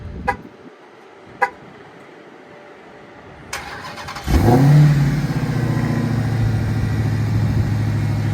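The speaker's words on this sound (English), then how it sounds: "Starts up beautiful. I'll cut that engine off because you guys won't be able to hear me." A 2023 Dodge Challenger Hellcat engine cranks and roars to life after a few faint clicks from a remote start, then settles into a loud, steady idle close by.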